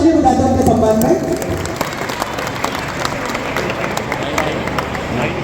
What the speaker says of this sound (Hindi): एक बार जोरदार ताली बजाते हैं उनके सम्मान में।